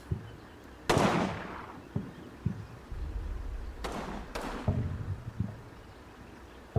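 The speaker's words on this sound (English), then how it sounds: "Ooh, sniper's firing? I think he is. Yes, he is." Distant sniper rifle shots in the Combat Mission Red Thunder war game: one sharp crack followed a few seconds later by two closely spaced reports, each trailing off, over a low battlefield rumble.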